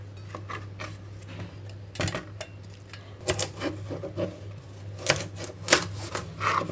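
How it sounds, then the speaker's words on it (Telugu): Small pieces of cut vegetables for a homemade ABC juice drop into a mixie jar with scattered light clatters and taps in an irregular rhythm, close and fairly quiet over a steady low hum. "వీటన్నిటిని కూడా మిక్సీ జార్లోకి వేసేసుకుంటున్నాను"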